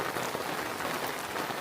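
Steady rain in the backwoods, a dense even patter of drops on surfaces that continues without pause and with no voices.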